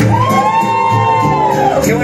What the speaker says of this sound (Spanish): ¡Mira qué bonito aplauso del público!